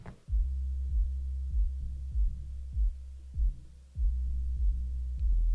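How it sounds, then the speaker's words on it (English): Soloed sub bass layer from the Sub Weight plugin in a song mix: deep, booming low notes pulse in a syncopated rhythm, each hit swelling and decaying, alone and fairly quiet. "So let's just solo the subweight here and see how it's different."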